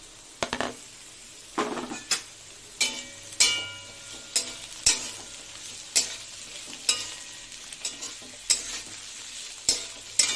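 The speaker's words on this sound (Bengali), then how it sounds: "আলুটা আমার অনেকটাই ভাজা হয়ে গেছে, এবার দিয়ে দেবো হলো পেঁয়াজ দিয়ে দেবো।" Potatoes and onions fry in oil with a soft, steady sizzle. Repeated sharp clinks of a utensil scraping and stirring against the pan come roughly every second, close and fairly loud.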